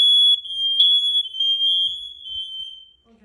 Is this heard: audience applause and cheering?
no